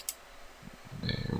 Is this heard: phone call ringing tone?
no